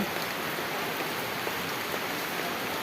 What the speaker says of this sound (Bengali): বাতাস আর বৃষ্টি, বাতাস আর বৃষ্টি